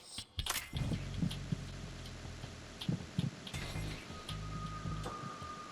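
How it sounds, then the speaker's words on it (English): A heartbeat heard through a wall in Metal Gear Solid 2: low, muffled, steady thumps repeat under a constant hum and faint background ambience, with no talk. "We can listen to Johnny's heartbeat shitting in there as well."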